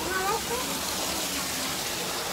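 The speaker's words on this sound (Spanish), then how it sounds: "Mira la cascada." The constant rushing roar of a waterfall beside a turtle area at the Selwo Marina park fills the scene, steady and enveloping, with a brief voice audible near the start.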